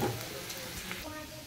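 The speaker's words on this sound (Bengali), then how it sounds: "এবার দেখো আলুগুলো একটু ভাজা ভাজা করার পরে" Diced potatoes fry in oil in a kadai, giving a steady, quiet sizzle throughout.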